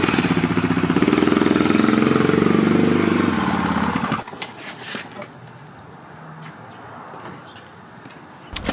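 A Suzuki DR650 adventure motorcycle engine runs loud and close with a steady throbbing drone, then cuts off abruptly partway through, leaving quiet handling noises and faint ambience.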